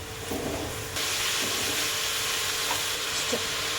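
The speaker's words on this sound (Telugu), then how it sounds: "వేసుకొని ఆనియన్ ఇలాగ కలిపేసుకున్నాము" Onions being stirred in a hot cooking pan, with a steady loud sizzle and hiss of frying throughout and faint scraping of the stirring under it.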